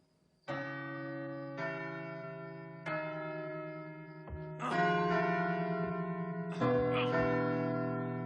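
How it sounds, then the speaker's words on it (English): Church bells ring in a slow sequence of separate tolls, each strike blooming into a long, sustained ringing tone that overlaps the next, resonant and moderately distant. "Bells."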